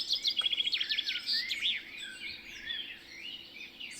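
Captured birdsong mixed in at low volume behind a live stream, with rapid trills and sweeping chirps at first, then softer warbling phrases, quiet and alone.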